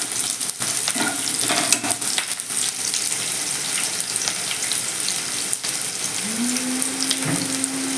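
Onion dropped into hot oil fries with a loud, dense, crackling sizzle that runs steadily from start to finish, with a brief tonal hum near the end and no talking.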